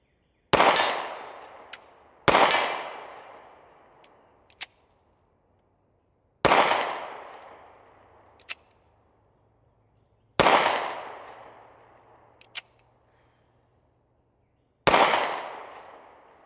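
Five sharp, loud pistol shots from a Kahr Arms PM40 ring out at irregular intervals, each with a quick decaying echo of an outdoor range, and a few faint metallic clinks fall between them.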